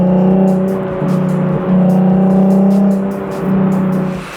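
A Nissan 370Z engine holds steady revs near 4,000 RPM in a loud, continuous drone with a few brief dips, and a faint rattle from the trunk sits under the engine note. No one speaks.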